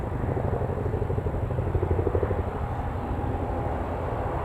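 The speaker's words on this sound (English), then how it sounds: "I can hear a helicopter, but I'm not entirely sure where it is" A helicopter near Newcastle Airport gives off a steady, loud rotor thrum with a pulsing low chop that holds throughout without pause.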